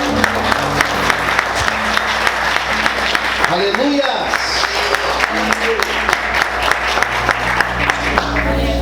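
Church congregation applauding together after a prayer, a steady wash of clapping and crowd noise running the full length with a voice speaking over it.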